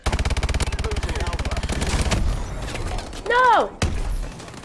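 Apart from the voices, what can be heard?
sniper gunfire in Call of Duty: Advanced Warfare video game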